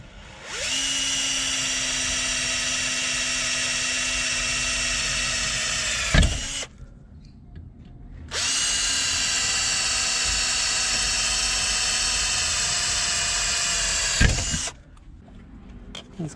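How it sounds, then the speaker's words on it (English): Power drill boring holes into a seat bracket inside a GMC Sierra truck: two long, steady whining runs of the motor, each ending in a sharp stop, with a brief quiet pause between them. "So let me mark my holes and get the drill."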